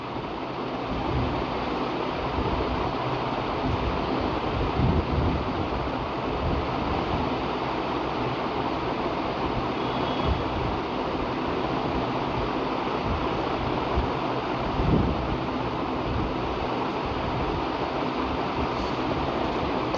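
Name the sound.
kebabs frying crisp in oil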